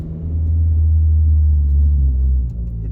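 A Honda fitted with a Cannon exhaust drives past outside, giving a deep, steady low rumble that swells and then eases off slightly at the end, close and fairly loud, with no talking.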